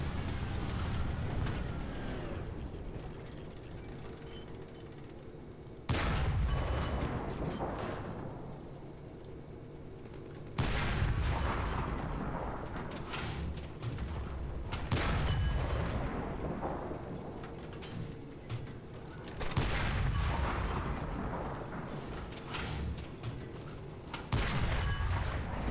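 Gunfire in a tank battle video game with Japanese tanks: several heavy cannon shots boom every few seconds, each followed by a long rumbling decay over a constant engine drone.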